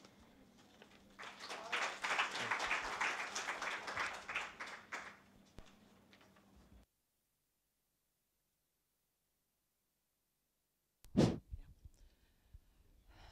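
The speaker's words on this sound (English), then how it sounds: "Another round of applause for Dr. Chijioke, please." An audience at a forum on corruption and women's rights in Africa claps for several seconds, fairly faint, fading out before a brief loud knock near the end.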